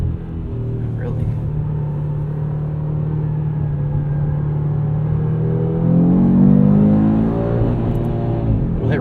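A 2022 Audi RS 3's engine revving toward the rev limiter from inside the cabin, a deep growling drone that climbs steadily in pitch and swells near the end, heard close under occupants' talk.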